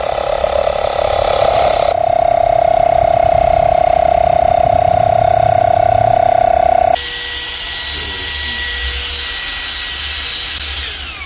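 A brushless rechargeable power tool runs up slowly, its motor whine settling into a steady tone for several seconds before shifting to a lower, quieter running sound with a faint mechanical ratcheting character, close and loud, no voices.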